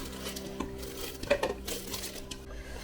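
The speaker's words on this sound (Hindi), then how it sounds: "अब जो है मैं इसमें ये गाजर ऐड कर रही हूँ" About 1.5 kg of grated carrots tipped into a pot of boiled milk for gajar halwa, giving soft clinks and scraping clatter of a spoon against the metal pot, close and moderate, with no talking.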